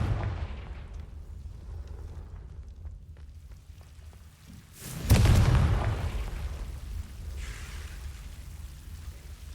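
The Confringo blasting spell explodes in Hogwarts Legacy, a single loud booming burst that swells midway through a low ambient game backdrop and then rumbles as it fades.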